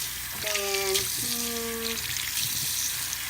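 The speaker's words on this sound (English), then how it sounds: "So we're gonna turn the hot water on and" Hot water gushes steadily from a tap, a loud continuous hiss with a brief tonal squeal from the faucet near the start and a voice speaking over it.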